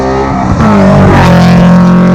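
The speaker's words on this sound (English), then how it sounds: "Race car." A race car roars past on a track, loud and close, its engine note sweeping downward in pitch as it passes in a single quick burst.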